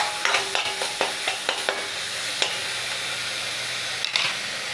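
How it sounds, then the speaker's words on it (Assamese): Bhapa pitha ingredients fry in a pan over a medium gas flame, giving a steady close sizzle with a run of quick scraping stirs at the start and a couple of later ones, no talk. "মিডিয়াম ফ্লেমত প্ৰায় 3 মিনিটমান সময় এনেকৈ ভাজিলোঁ"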